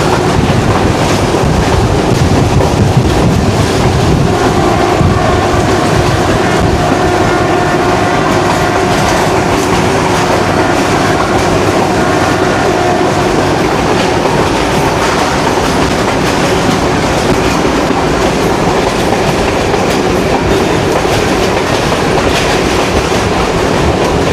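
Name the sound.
Kohat Express train running from Rawalpindi to Kohat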